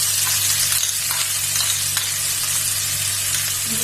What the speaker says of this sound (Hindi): अब मैं इसमें 1 बड़ा कटा हुआ प्याज डालूंगी